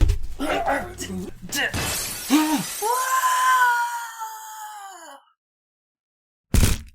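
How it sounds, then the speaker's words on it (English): Glass ceiling shattering in a movie fight scene as two men crash through it onto a table below: a loud burst of breaking glass with tinkling debris, amid shouts, groans and score, then silence and a brief final crash. "The two crash through the glass ceiling, falling onto a table below."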